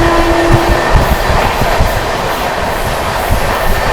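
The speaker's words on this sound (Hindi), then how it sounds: "तो दोस्तों यहाँ किसी ट्रेन को इंटरसिटी ट्रेन को ओवरटेक करके जा रहे हैं हम।" A Gondwana Superfast Express rolls at speed past an intercity train between Delhi and Jabalpur, giving a loud, continuous rumble with rhythmic clickety-clack of wheels heard from on board.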